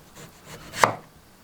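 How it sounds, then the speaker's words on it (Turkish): Potatoes sliced into rounds with a kitchen knife: a single crisp, sharp chop lands near, standing out from an otherwise quiet background. "Patateslerimi dilimleyerek yapımına başlıyorum."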